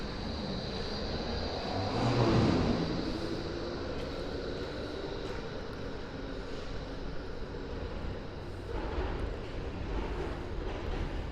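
A tram passes by in a city street during the Christmas season, a broad rolling rumble that swells briefly and then fades into steady distant traffic hum, heard from a moderate distance.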